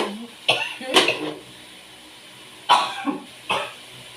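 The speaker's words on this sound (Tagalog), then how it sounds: "hirap na ubo" A person coughs several times in short, harsh bursts, close up, with brief pauses between the fits and no speech.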